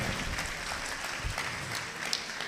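A church congregation claps loudly together, a dense burst of applause throughout without pauses.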